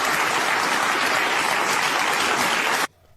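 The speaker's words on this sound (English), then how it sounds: "I'm glad they're applauding." A studio audience applauds loudly and steadily as a dense, even wash of clapping, then cuts off abruptly near the end, leaving near silence.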